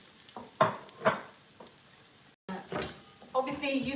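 Onions tossed into a pan where ginger and garlic are already cooking, giving a few sharp stirring and sizzling bursts, then a louder steady frying hiss that builds toward the end.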